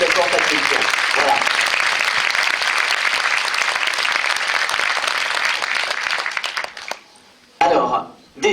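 An audience in a French cinema at a film premiere and debate in Rochefort bursts into sustained, loud applause that swells and then tapers off into scattered claps.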